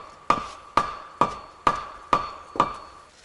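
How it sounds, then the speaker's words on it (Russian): Six evenly spaced hammer blows ring out during wall construction, each a sharp metallic strike with a short ringing tail, close and steady in rhythm, with no talking. "давай, давай, молоти, молоти"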